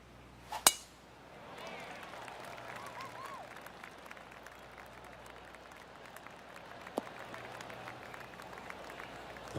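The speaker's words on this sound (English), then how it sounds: "Oh, golf clap." A sharp clink rings out, then polite, light applause from a golf gallery in PGA Tour 2K23 rises and holds as a soft, scattered patter, moderately distant.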